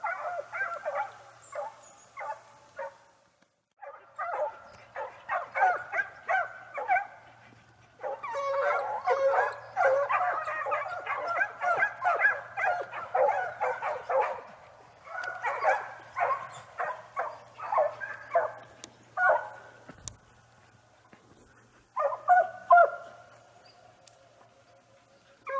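Hunting dogs used for fox hunting bark, yip and whimper in repeated excited bursts over about 25 seconds, fairly close and loud, with short pauses between volleys.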